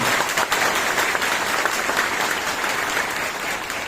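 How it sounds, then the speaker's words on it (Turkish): Sustained applause from a large crowd, steady and loud for several seconds without pause. "kocaman bir alkış istiyorum"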